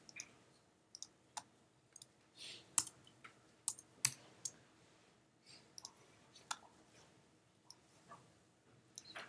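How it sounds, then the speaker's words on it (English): Typing on a computer keyboard, sparse, irregular key clicks and taps spread across the span, quiet and close with no talk. "just going to type a different word so it's not all the same."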